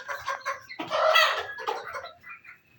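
Fayoumi chickens cluck and murmur while feeding at close range, a cluster of busy calls rising to a louder burst midway before trailing off into softer clucks.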